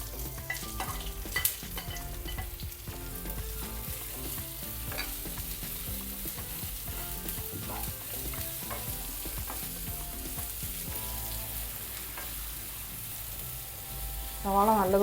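Chopped onion sizzling in hot oil with garlic and masala in a pan for an egg curry, with a steady close frying hiss and scraping stirring throughout, alone and fairly loud.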